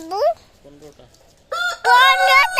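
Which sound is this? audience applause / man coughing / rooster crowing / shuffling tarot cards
rooster crowing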